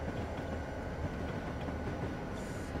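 A freight train rolling along the Feather River line in a train simulator game, a steady low rumble and rattle of railcars at constant loudness with no break.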